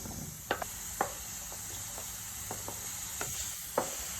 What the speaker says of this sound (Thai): ใส่น้ำมันพืชนิดนึง เพื่อจะผัดหมู กำลังจะมาผัดหมูกันนะคะ ผัดหมูให้สุก